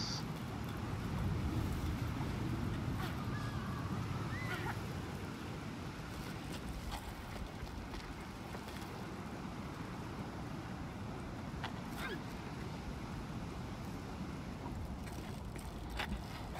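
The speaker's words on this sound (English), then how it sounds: "we gotta wait for the wind to turn around and the wind will carry us." Wind blows steadily in the Jusant video game, a broad, continuous rushing whoosh with faint scattered ticks and clicks over it.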